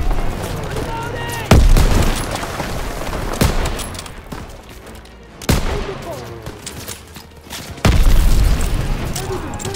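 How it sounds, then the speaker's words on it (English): Booming grenade blasts and gunfire in Call of Duty WWII on PC, several heavy impacts across a dense battle soundscape with voices calling out over the noise. "Lobbing a grenade!"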